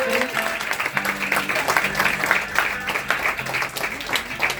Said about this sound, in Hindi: ताली बजा के इनको स्वागत करें